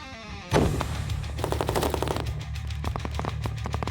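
Loud gunshots ring out during military assault training, one sharp blast followed by rapid bursts of automatic fire in quick succession.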